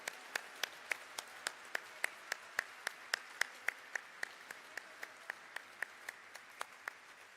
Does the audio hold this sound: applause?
yes